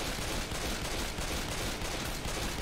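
Sustained gunfire in Left 4 Dead 2 on Expert difficulty, a dense unbroken stream of rapid shots holding at steady loudness from start to finish, with no voices over it.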